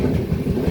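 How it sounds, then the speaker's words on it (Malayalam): Veraval Express train in motion, a loud, close low rumble with a rhythmic throbbing pulse under steady wind noise. "ഞാൻ ഈ യാത്ര ചെയ്യുന്ന ട്രെയിൻ വരാവേൽ എക്സ്പ്രസ് ആണ്."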